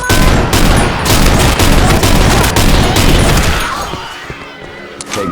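Heavy gunfire in the Dark Center video game, a loud, dense barrage of booming shots and blasts for about four seconds, then fading into quieter rumbling with a final single shot.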